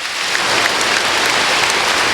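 A church congregation claps together during a 1991 Sunday service, a dense, loud patter of applause with no voices over it.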